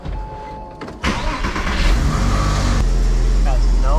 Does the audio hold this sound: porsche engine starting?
yes